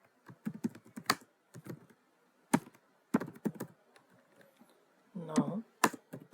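Clattering keystrokes on a computer keyboard while Java code is entered, coming in uneven bursts of quick taps separated by brief pauses, close and clear with no voices.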